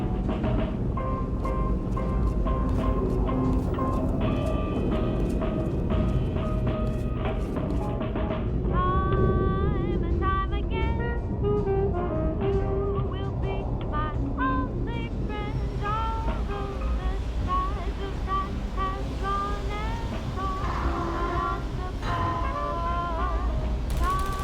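A train in the game Portal Stories: Mel rolls toward Aperture Central Station with steady rumbling, creaks and mechanical clatter under continuous music, loud and unbroken throughout.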